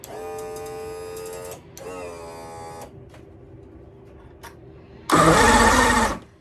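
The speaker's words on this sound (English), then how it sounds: "let's try the ignition and the power tilt and trim up there" An outboard motor's ignition and power tilt and trim are tried from the boat console: two whining electric-motor runs of a second or so each, a quiet pause, then a loud, harsh one-second burst.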